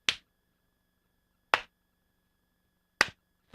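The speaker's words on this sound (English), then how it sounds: "I'll give you guys some sync claps here so you can like test" Three sharp hand claps, evenly spaced about a second and a half apart, ring out crisp and close in an otherwise quiet room, used as a sync test.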